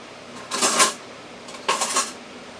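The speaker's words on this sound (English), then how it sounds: "I'm going to stir the ravioli." A utensil stirs ravioli in a cooking pot, making two brief bursts of close metallic scraping and clinking about a second apart against a quiet background.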